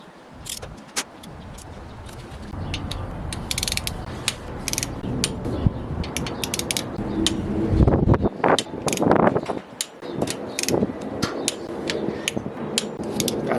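A ratchet clicks in rapid bursts while torquing countersunk Torx head bolts during a stage 2 cam install on an engine, with close, irregular ratcheting, metallic rattles and shifting tool handling throughout.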